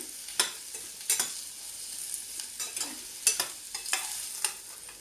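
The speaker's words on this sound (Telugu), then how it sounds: "సన్నగా సిమ్లో వేపుకుంటూ ఉండాలండి" Cashews fry slowly on a low flame for an Andhra-style mango curry, a soft steady sizzle broken by sharp, irregular clicks of a spoon stirring in the pan.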